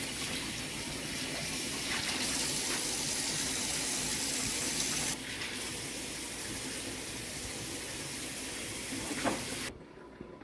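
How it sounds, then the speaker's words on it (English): Running tap water gushes steadily into a sink while glass jars are washed with soap for pickling, a continuous close wash of water with faint knocks and shifts, cutting off abruptly at the end. "take this opportunity to wash the jars out really well with soap and water"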